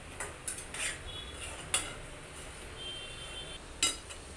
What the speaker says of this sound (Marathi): मीठ टाकून झालं की आपण परतायचे. छान असं परतून घ्यायचं.